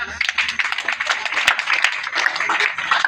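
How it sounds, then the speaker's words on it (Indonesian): Congregation clapping together at a Christmas church service, a brief burst of dense, lively applause mixed with voices. "Kita bersyukur kita tepuk tangan bisa."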